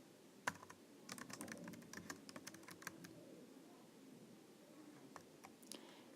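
Quiet keyboard typing: irregular bursts of clicking keystrokes, close but soft, over a low room hum.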